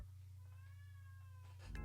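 A cat lets out a drawn-out, wavering meow over a steady low hum, ending with a sharper rising cry.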